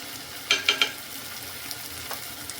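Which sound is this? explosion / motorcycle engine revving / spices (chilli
spices (chilli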